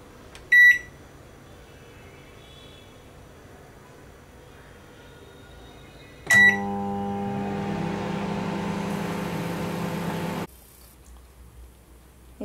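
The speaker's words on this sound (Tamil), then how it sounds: "மைக்ரோவேவில் 1 நிமிஷம் வந்து நம்ம குக் பண்ணி எடுத்துக்கலாம்." A microwave oven roasting poha beeps once, then beeps again as it starts up into a steady mechanical hum that runs for about four seconds before cutting off.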